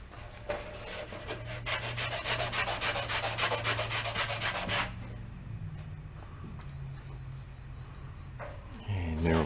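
Lacquer thinner being rubbed by hand onto a spot on a vintage 1950s cola thermometer, a steady scrubbing rasp that builds loud for a few seconds, then eases into quieter rubbing under a low background hum.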